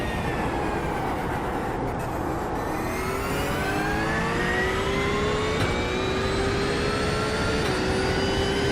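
A Porsche 992 race car engine in a racing game, revving and climbing through the gears in long rising whines with brief drops at each shift, loud and close.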